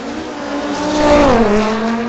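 A 2018 Audi drag racing at Mission Raceway Park during a street legal night event, its engine howling past with a pitch that rises then drops as it goes by, loud and close.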